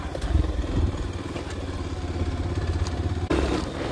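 A motorcycle engine drones steadily while climbing a winding ghat road, a mid-pitched running hum with slight rises and a brief dip near the end, loud and close with wind and road rumble mixed in.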